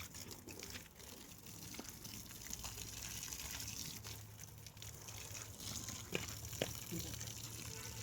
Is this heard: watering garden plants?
yes